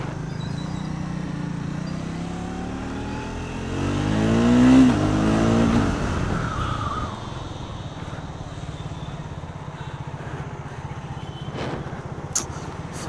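A Triumph Speed 400 motorcycle engine revs, climbing in a rising sweep to a loud peak before dropping back to a low idle burble, with faint clicks near the end.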